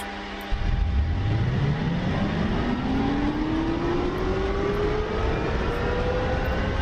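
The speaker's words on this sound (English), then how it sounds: "You can hear the igniter going." Simulated helicopter turbine starting up in DCS, a steady broadband engine roar that jumps in after a quiet moment, with a tone rising steadily as the turbine spools up and a faint ticking igniter beneath.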